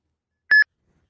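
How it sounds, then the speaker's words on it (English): A single short electronic beep sounds from an Uber driver app on a phone signalling a trip request, a clean tonal chirp that stops abruptly in otherwise silent surroundings. "Your phone will start beeping, and the screen will flash."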